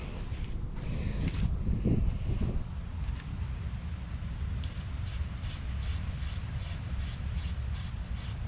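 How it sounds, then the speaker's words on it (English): An aerosol can hisses in a series of short, evenly spaced sprays onto a car engine after a stretch of muffled handling noise and breezy background. "I'm gonna let it dry a little bit and then spray another coat on it"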